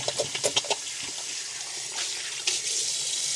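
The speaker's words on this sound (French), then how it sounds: "je vais me rincer la tête" Tap water runs steadily while hair is rinsed under it, with soft splashing and a few sharper drips and splatters early on, close and fairly quiet, no talking.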